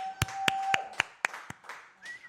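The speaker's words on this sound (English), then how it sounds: "Give a round of applause for Sonia." A few sharp, evenly spaced hand claps from one person, close by, followed by a faint trailing tone.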